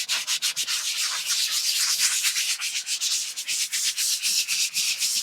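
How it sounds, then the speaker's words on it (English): A sanding block rasps over dried drywall mud in a steady run of quick back-and-forth strokes, close and moderately loud, with no talking. "give everything just a quick pass over with a sanding block here"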